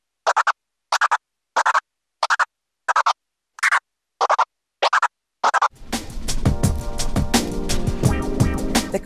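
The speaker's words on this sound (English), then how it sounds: "The crab is a fader hand technique which produces sounds by running your fingers over the fader to cut the sound in sharply" Crab scratches on a turntable cut in by the crossfader give nine sharp, evenly spaced bursts with clean silences between them, then a beat plays on continuously.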